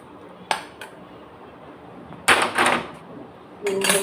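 A cooked mixture scraped out of a pan onto an oiled steel plate: a few sharp metallic clanks and rasping scrapes in short bursts, close by, against a quiet kitchen background with no speech.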